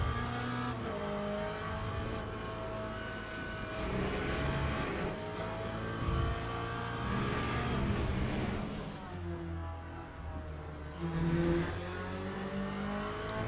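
Race car engine in the Le Mans Ultimate racing game, a steady loud drone whose pitch climbs and drops through gear changes, running continuously throughout with no clear talk over it.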